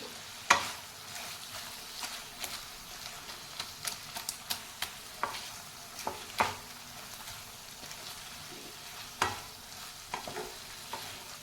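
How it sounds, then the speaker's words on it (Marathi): Papad bhaji stirred in a pan, made with roasted papad pieces and cooked onion, giving a faint, steady frying hiss broken by repeated soft scrapes and clicks of the spoon. "आता आपण भाजी नीट मिक्स केलेली आहे"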